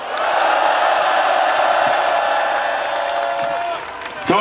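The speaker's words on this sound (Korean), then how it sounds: "큰 박수 부탁드립니다" Loud, dense applause from a crowd at a political emergency rally, steady clapping mixed with some cheering that fades slightly near the end before a sharp burst.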